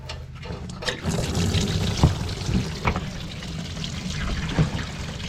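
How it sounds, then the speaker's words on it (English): Coolant drains from a Nissan Gloria engine, splashing and trickling continuously with small spatters, fairly close and steady throughout. "Just explodes coolant everywhere."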